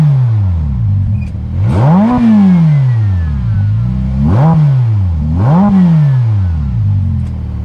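A stationary Ferrari F8 Tributo's engine revs three times in a row, each rising swell climbing then falling back to idle, loud and close with no talk.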